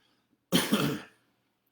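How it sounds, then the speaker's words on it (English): A single harsh cough burst, close and fairly loud, lasting about half a second, then silence. "Excuse me, got that COVID cough."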